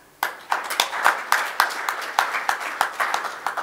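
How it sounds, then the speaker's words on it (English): Applause at an innovation showcase event, heard as a sparse, uneven run of distinct claps from a few nearby people, fairly sharp and loud, with no talking over it. "So let's give them all one big round of applause"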